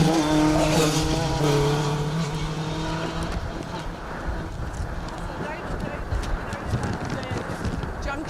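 A rally car on an asphalt stage of the Jim Clark Rally, running with no lights on, passes with a strong engine note that swells and then fades into the distance, under continuous commentary.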